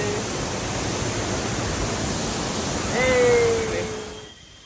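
Water roars down Pullaveli waterfall at a high level, a loud, steady, broadband rush close by, with a brief whistle-like tone rising over it before the sound cuts away.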